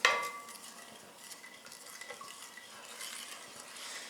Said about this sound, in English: Then add 1 1/2 tablespoons of regular granulated sugar and give it a quick stir.